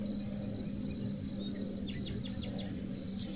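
Crickets chirp outdoors in the dark with a steady, continuous, fairly quiet trill and no voices.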